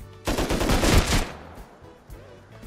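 Rapid submachine gun fire in the Rust console video game, a loud, dense burst of shots lasting about a second before fading into a quieter tail.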